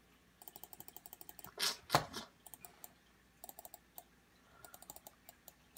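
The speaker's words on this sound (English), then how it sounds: "Will you stop clicking the mouse?" Rapid light clicks tap out in quick bursts from a computer mouse and keyboard at a desk, fairly faint and close, with a couple of louder handling thumps in the middle.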